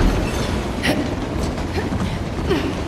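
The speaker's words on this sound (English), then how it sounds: "Train?" Train rolling in Uncharted: Legacy of Thieves, a continuous loud rumble of wheels and carriages with faint rattling and clacking, steady from start to end.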